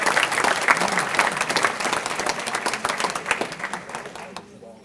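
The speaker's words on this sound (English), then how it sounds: "Let's give everybody another round of applause." A round of applause at a community volunteer luncheon, a roomful of people clapping loudly and steadily before it thins out and fades near the end, with some voices mixed in.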